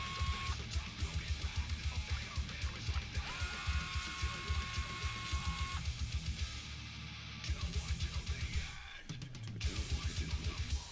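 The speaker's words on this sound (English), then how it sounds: "I might take the screws out first." Screws come out of a Rickenbacker guitar with a ratcheting driver, making a close, steady stream of rapid mechanical clicks in repeated bursts with brief pauses between them.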